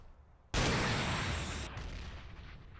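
RPG rocket launcher in the Gmod video game, a single sudden loud blast that hits hard and then rolls off into a long, fading roar.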